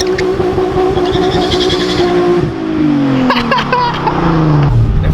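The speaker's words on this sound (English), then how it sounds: "Hit it hard, Let me see both tires spin." Nissan 350Z with an upgraded differential doing a hard burnout, engine roaring loud and close as the rear tires spin and squeal, revs rising and then sweeping down, a continuous heavy drone with no talk.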